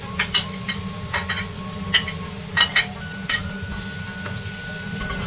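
Scallion and ginger hit hot oil with chili bean paste in a pan, giving a steady close sizzle. A utensil stirs and clinks sharply against the metal several times in an irregular rhythm.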